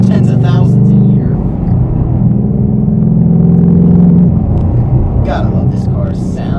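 A deep, throaty 2021 Viper V8 engine rumbles and burbles loudly up close, revving slightly, with a voice briefly audible at the start and end.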